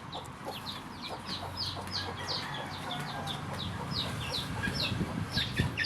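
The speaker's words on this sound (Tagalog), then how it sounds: "Ito ay isang hen." A hen of an Oriental and Naked Neck cross clucks repeatedly in quick, lively bursts at close range, over a low outdoor background hum.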